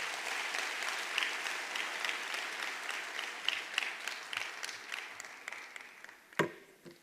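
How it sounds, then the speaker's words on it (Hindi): Hearty applause from a seminar crowd at a business talk, loud and sustained, then thinning into scattered individual claps near the end with one sharp louder clap. "जोरदार तालियां होनी चाहिए सर के लिए।"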